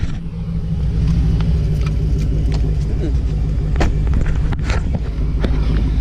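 A 2017 Dodge Challenger Hellcat idles nearby with a deep, steady engine rumble, while a few faint ticks and clicks sound over it.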